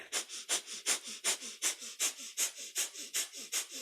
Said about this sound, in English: it's our panting breath through the belly.